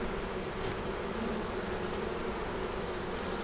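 A hive of honeybees, opened for inspection, gives off a dense, loud, continuous buzzing swarm drone from close up, steady throughout with no voices.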